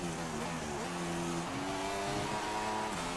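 An F1 car's engine on a qualifying lap in a racing video game, at the Canadian GP, a steady high whine that climbs in pitch through the gears, fairly faint and continuous.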